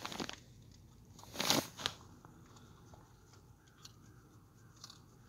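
A dog named Scully crunches dry treats, with a couple of crisp bites standing out against a quiet background inside a van.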